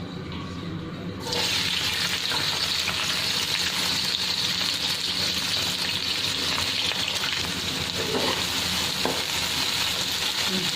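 Sliced onions sizzle and fry in hot oil in a pan, a steady loud crackling hiss that starts abruptly and runs continuously, close up, with no talking.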